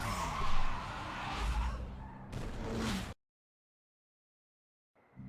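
An Infiniti G35 with a 3.5L V6 in Need For Speed Underground 2 launches for a quarter-mile drag run, with a loud roaring engine and tire noise that cuts to silence before faint sound returns.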